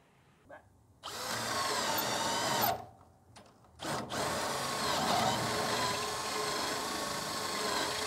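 A Bosch GSB 185 Li cordless drill fitted with a 35 mm hole saw bit whirs up loudly after a quiet start, briefly stops twice, then runs steadily at high speed, close and continuous.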